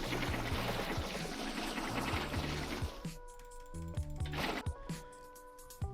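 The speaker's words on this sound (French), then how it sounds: "Il suffit juste de placer l'eau et après c'est bon." Water block placed in Minecraft, a pouring, trickling liquid rush filling the first half, then fading into a quieter stretch with soft game tones and clicks.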